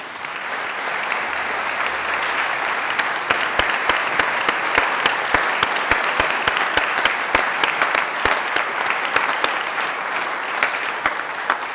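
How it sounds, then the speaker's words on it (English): Warm, sustained applause from members of the Colorado Senate chamber honouring senators, with many hands clapping steadily and sharp individual claps standing out throughout. "Would you members please join me again in giving them a warm,"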